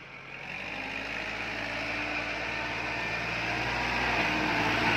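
A tractor engine works in mud while filling a pond, a steady low rumbling drone that grows slightly louder over the clip, heard alone without talk.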